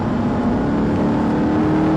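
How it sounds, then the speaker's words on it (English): An Audi R8 accelerates out of a corner on a race track, a loud continuous engine drone with a steady rising hum heard from close up, with no voices over it. "ease off the brakes, gently on the throttle to the blue cone, accelerate out towards the orange."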